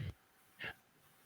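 A chow chow dog barks indoors, two short barks with a gap between them, close and fairly quiet.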